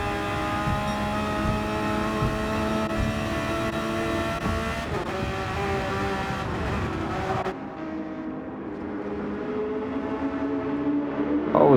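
A Porsche race car engine in a racing video game: a steady, fairly quiet engine drone with shifting pitch as it revs and changes gear, running continuously with no voices.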